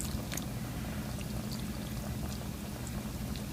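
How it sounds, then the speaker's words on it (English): Water poured into a pot of simmering vegan curry with fresh vegetables, a steady continuous splashing stream at close range with no talking. "we may have to add a little bit more water at this point"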